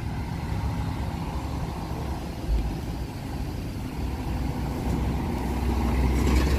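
A Satélite Norte coach, number 20004, running from Goiânia to São Paulo, rolls into the Ribeirão Preto bus terminal. Its engine gives a low, steady rumble that swells slightly toward the end.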